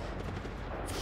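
Gunfire in the Just Cause 3 video game, a dense burst of rapid shots and booming impacts packed into one second, loud and continuous with no talking.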